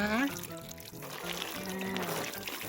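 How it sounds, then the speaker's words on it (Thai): Water is poured over freshly planted whale fin plants in 8-inch pots, a steady pouring and trickling sound running through most of the stretch while someone speaks over it. "ลดน้ำลงไปทุกกระถางเลยนะคะ"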